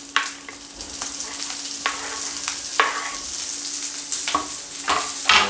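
Soybean manchurian with capsicum fries over a high flame, a loud continuous sizzle broken by repeated scraping stir strokes against the pan.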